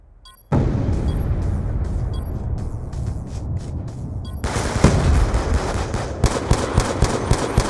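Frag grenade detonation in a Call of Duty Black Ops II multiplayer match, with a loud blast starting sharply near the beginning and continuing as dense gunfire and explosive bursts with repeated sharp cracks toward the end.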